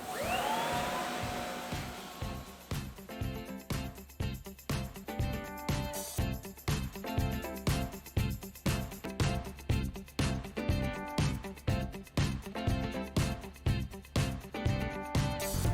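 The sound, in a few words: Tennant CT30 walk-behind floor scrubber running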